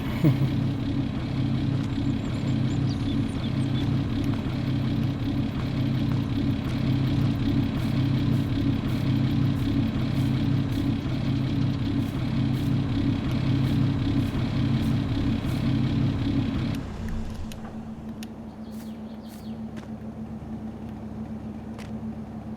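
A truck engine runs in the Farming Simulator 22 video game, holding a loud, steady drone for about seventeen seconds before dropping abruptly to a quieter, lower idle.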